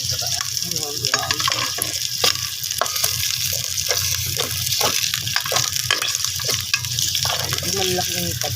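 Pork fat sizzles and fries in a pan as shrimp paste cooking begins, a steady close crackle with scraping stir sounds, and a person talks over it.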